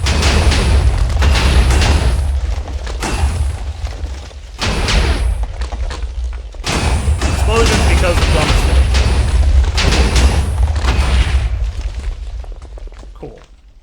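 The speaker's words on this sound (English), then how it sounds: "we had nowhere for that superheated steam to go, hence the explosions" Superheated steam explosions in modded Minecraft go off as a series of heavy, booming blasts with deep rumbling tails, loud and close, several bursts over about fourteen seconds, with a voice talking between them.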